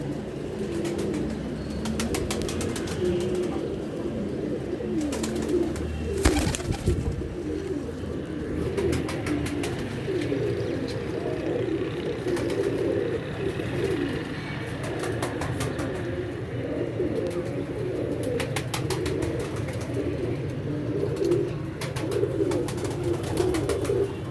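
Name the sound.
pigeons cooing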